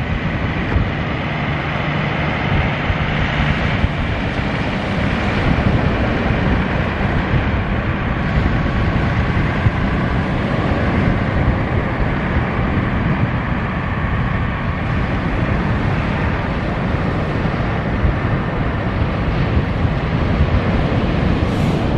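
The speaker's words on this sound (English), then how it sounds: "It's a 660 convertible with two 140 four-stroke Suzuki's on the back." A 660 convertible boat with twin Suzuki 140 four-stroke outboard engines under way, giving a continuous loud roar of engines, wind and water throughout.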